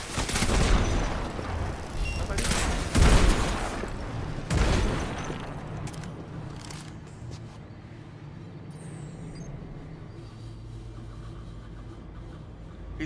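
Gunfire from a mini shooting gallery in the video game Destiny 2, with several loud, dense bursts of shots over the first five seconds before settling into a quieter, steady low rumble with no talking.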